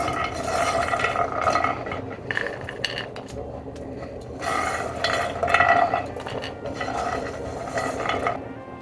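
Roasted, crispy makhana fox nuts tumble from a pan onto a plate in several bursts of dry, rattling clatter, close and fairly loud.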